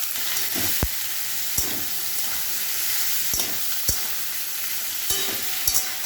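Vegetables sizzle steadily in hot fish oil in a pan for a fish curry, a continuous close frying hiss broken by several sharp clinks of a utensil stirring against the pan.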